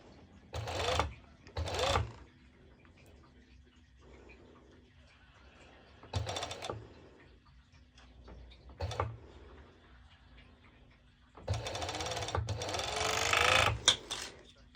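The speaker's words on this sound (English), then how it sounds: "I go directly to my serger, and I just place it directly over there." Serger overlock sewing machine stitches fabric in several short buzzing bursts and one longer run near the end, with quiet gaps and faint background sounds between.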